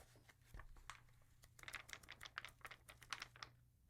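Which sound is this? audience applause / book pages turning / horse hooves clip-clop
book pages turning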